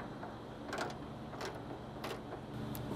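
A Torx bit turns a T30 bolt on a Toyota Tacoma bed stiffener, giving faint, close ratcheting clicks in short irregular bursts over a quiet background.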